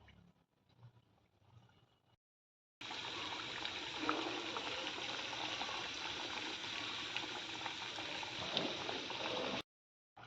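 A wheat flour snack fries in hot oil over a medium flame, a dense steady bubbling hiss that starts abruptly after a quieter stretch and cuts off near the end.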